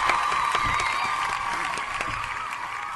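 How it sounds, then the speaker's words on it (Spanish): A studio audience applauds steadily for a welcomed guest on a live talk show, a dense wash of clapping that holds at even volume throughout with a faint voice or two beneath it. "La recibimos con un aplauso"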